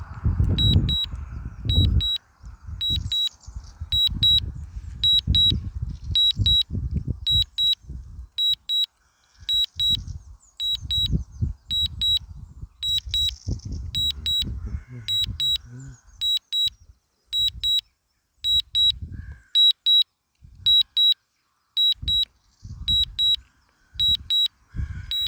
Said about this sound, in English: this thing drives me mad, this beeping